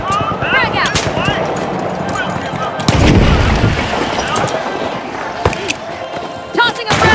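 A frag grenade explosion in the first-person shooter The Finals: a deep, loud boom near the three-second mark over ongoing gunfire and battle noise, with an announcer's voice talking throughout.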